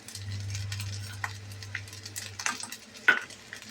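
Fried rice being stirred in a pan during Schezwan-style cooking, giving soft scraping and stirring noises with a low steady hum underneath and a sharp clink near the end.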